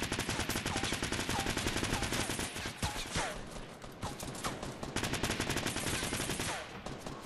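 Rapid, close, loud gunfire from the video game Fortnite crackles continuously in dense bursts, automatic weapons rattling with sharp individual shots layered over one another for the whole stretch.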